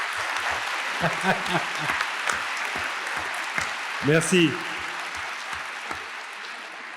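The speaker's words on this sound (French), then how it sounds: "Applaudissements." Applause from an audience at a French panel discussion on inflation and world disorder, breaking out around the four-second mark amid steady background noise, with a voice speaking briefly just before it.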